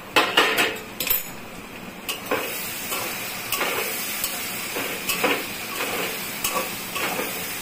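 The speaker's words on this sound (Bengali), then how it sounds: "এখন ঢাকনাটা তুলছি।" Metal clinks and clatters of a cooking pot lid being lifted and handled while kochur loti simmers, several sharp near taps spread across the stretch over a low steamy hiss.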